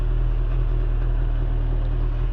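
A 1991 Kawasaki ZXR400 motorcycle engine runs at a steady, even note, a close, loud and continuous hum with no voices over it.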